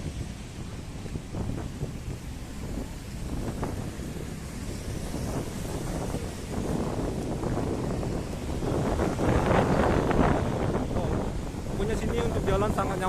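Strong wind buffets the microphone on a busy Jakarta street near Hotel Indonesia Kempinski, a loud, steady rush that swells toward the end, with indistinct voices and street sounds underneath.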